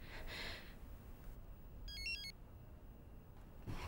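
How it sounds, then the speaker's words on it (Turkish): A phone ringtone chirps once in a brief electronic burst, fairly faint against quiet room noise. "Telefonun çalayım."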